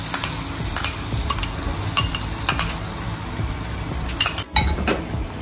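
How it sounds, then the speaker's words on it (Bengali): Spoon stirring an onion-tomato masala paste into chicken in a handi pot, with repeated sharp metal clinks against the pot over a soft sizzle throughout. "ভালো করে নেড়ে চেড়ে দিচ্ছি।"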